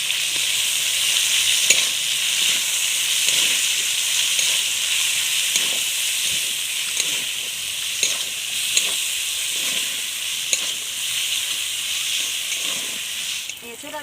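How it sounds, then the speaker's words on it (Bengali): Ginger and garlic paste sizzles steadily in a pan for a Bengali echor chingri curry, with a continuous frying hiss and soft intermittent scrapes of stirring, close and fairly loud, with no voices. "ভালো করে নেড়ে নিচ্ছি।"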